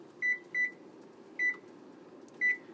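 Four short electronic timer beeps at a homebrewing session for a cider ale, two close together, then one, then another, each clear and fairly loud over a low steady background hum.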